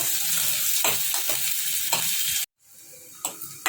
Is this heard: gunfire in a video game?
no